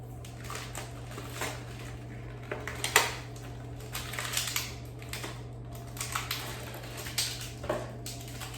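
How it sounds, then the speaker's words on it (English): A cardboard box of Trader Joe's frozen cheese blintzes is handled and opened, with crinkling, tapping and tearing sounds in scattered bursts. "let's open a box of frozen cheese blintzes"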